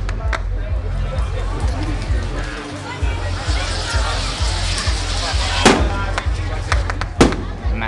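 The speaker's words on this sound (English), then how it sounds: "Massive fireworks." Fireworks at the Fireball Festival night in Nejapa, El Salvador, a dense crackling rumble with sharp loud bangs near the six- and seven-second marks, over constant crowd hubbub.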